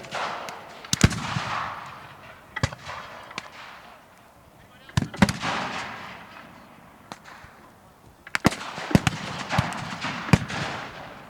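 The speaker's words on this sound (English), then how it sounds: "giving them the opportunity to clear the breach on their rifles to make sure that they can fire cleanly" Rifles fire at a military reenactment battle at Military Odyssey in England, with sharp, loud single cracks scattered irregularly over a background of distant crowd and field noise.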